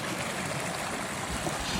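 Steady rushing water from a meltwater stream on a snowy Pacific Crest Trail stretch, a continuous broadband wash heard close and moderately loud with no voices.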